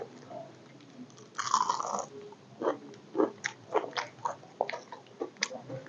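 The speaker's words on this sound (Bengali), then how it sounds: "গরম গরম পেঁয়াজি, এটা একটু কামড় বসাই" Hot, crispy fried onion fritter (piyaji) bitten into close up: one loud crunching bite followed by a steady run of crisp, rhythmic chewing crunches.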